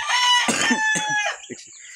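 A Brahma rooster crows close by, one long strained cock-a-doodle-doo with harsh, broken notes trailing off at the end.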